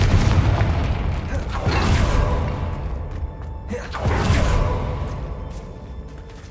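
A Confringo blasting spell from Hogwarts Legacy erupts in heavy booming explosions, two loud whooshing blasts that each roll off and fade.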